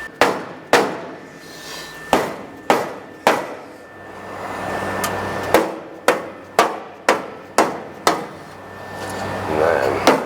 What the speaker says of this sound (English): it's just this piece of metal here, but I'm gonna pound past it.